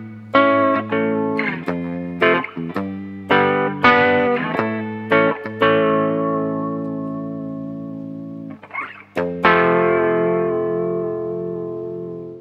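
Electric guitar played through a chorus pedal into the chorus amplifier alone, a run of plucked notes and chords with a wavering modulated shimmer, ringing sustain and a final strummed chord left to decay, close and clear with no talk.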